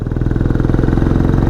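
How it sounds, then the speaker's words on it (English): Benelli Imperiale 400 single-cylinder motorcycle engine running at a steady idle, with a close, loud, even chugging thump that pulses regularly and never breaks. "this is an awesome motorcycle."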